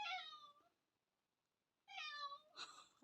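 Indoor cat meowing loudly, one drawn-out meow followed by a silent pause and then a second long meow, with a quick third cry tacked on at the end, close and clear.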